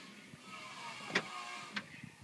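A 2005 Nissan Quest SE minivan's power sliding door runs shut with a quiet motor whir, ending in a couple of soft latching clicks, fairly faint and with no talk.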